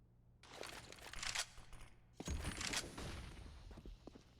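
Gunfire in Counter-Strike: Global Offensive on the Mirage map during a competitive match, with bursts of sharp shots, brief clatter and footsteps fading between them, heard at moderate distance.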